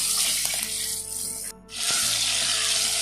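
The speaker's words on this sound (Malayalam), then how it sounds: "ഇതൊന്ന് മൂന്ന് മിനിറ്റ് സമയം നമ്മൾ ഇതേപോലെ തിരിച്ചും മറച്ചൊക്കെ ഇട്ടിട്ട് ഇതിങ്ങനെ വഴറ്റിയെടുക്കണം" Tomatoes sautéing in a pan for a restaurant-style spicy Kerala fish curry, a steady close sizzle with stirring scrapes, briefly interrupted by a short gap before the frying resumes loud and even.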